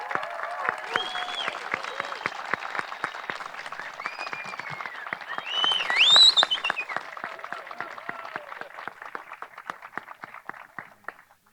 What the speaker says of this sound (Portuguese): Por favor, vamos aplaudir aos noivos e a este espetáculo que está começando.